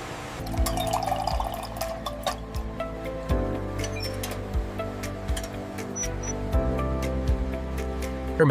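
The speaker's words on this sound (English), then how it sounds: "Watermelon juice streams continue uninterrupted." Watermelon juice streams steadily through equipment in a processing plant, a continuous liquid wash with splashes and drips over a constant mechanical hum, fairly loud and uninterrupted.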